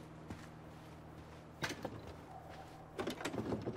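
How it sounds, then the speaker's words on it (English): A locked shed door in the Tell Me Why video game being tried, giving a couple of short rattling clunks as the handle is worked, heard once around the middle and again more busily near the end over a quiet outdoor ambience. "What about this door? Is it unlocked?"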